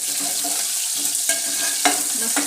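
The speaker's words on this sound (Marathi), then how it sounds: "तर आता टाकणार आहोत आपण कांदा" Chopped onion sizzles in hot oil seasoned with cumin and mustard seeds while rice is cooked for a spiced rice dish. The frying hisses steadily, with a few louder crackles and spatters, and no voices.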